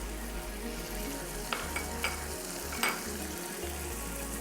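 Ground coriander and black pepper frying in hot oil in a pan, a steady close sizzle with a few sharp scrapes and clicks of a spoon stirring through it, no talking.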